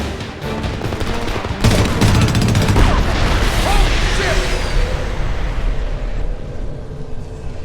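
Explosions and gunfire rage in Homefront's battle scene, a dense, loud, continuous roar of blasts and rattling shots, with shouting voices mixed into the chaos.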